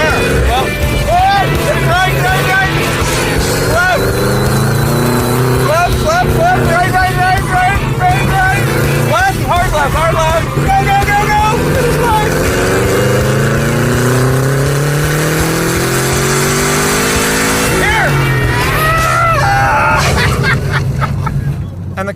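A 1969 Ford Mustang Mach 1 revived from a junkyard accelerates hard on a track, its loud engine rising and falling through repeated revs under continuous talk and shouting from occupants.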